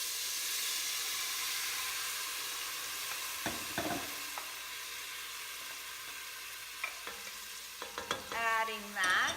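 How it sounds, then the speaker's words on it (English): Soaked mung beans and white rice are stirred with spices in a pot, giving quiet scraping and shuffling sounds over a low background hiss, with a few sharper clatters and stirring strokes toward the end. "Adding that here to the pot, giving it a nice stir so everything gets coated with spices"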